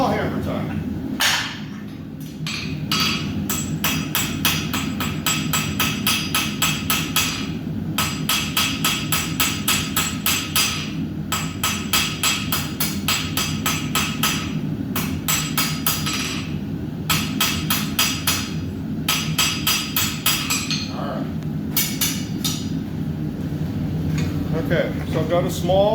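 Rapid, steady metallic blows of a small hammer forging a taper on round steel bar, dozens of ringing strikes in a regular rhythm with brief pauses between bursts, close and loud over a low hum.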